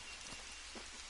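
Steady rain pours down in The Hunter: Call of the Wild, a dense, even hiss filling the short moment on its own with no voices.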